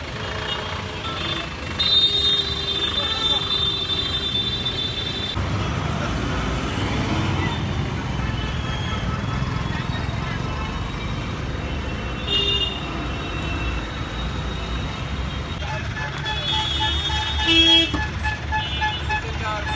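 Jammed city road traffic in Siliguri on a hot day, heard from the middle of it: a steady roar of engines, with horn toots and beeping rising now and then, close and continuous, and faint voices mixed in.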